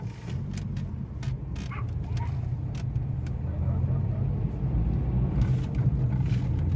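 A Hyundai Santro rumbles along a bumpy dirt road full of potholes, giving a steady low engine and road drone with scattered clicks and knocks from the rough surface. A dog barks faintly in the background.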